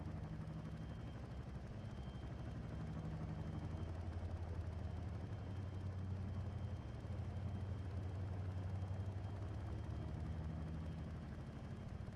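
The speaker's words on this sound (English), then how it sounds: "My raffle copter goes swat, swat, swat, swat, swat." Helicopter rotor in a video game, heard as a steady, low droning whir that holds at an even level throughout with no voices.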